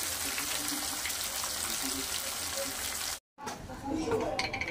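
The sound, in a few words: frying borli fish in a pan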